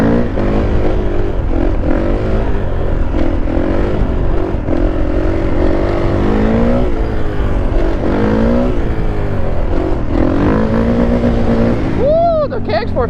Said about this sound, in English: Alright, we're on a KX 450 now.